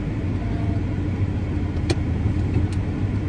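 Heard from inside a car driving along a road, a steady low engine and road rumble continues evenly throughout, with faint brief clicks above it.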